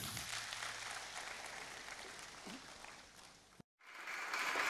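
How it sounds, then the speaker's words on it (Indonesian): A church congregation at a worship service claps together in a steady wash of applause that cuts off abruptly, then resumes. "kita tepuk tangan bagi Tuhan kita"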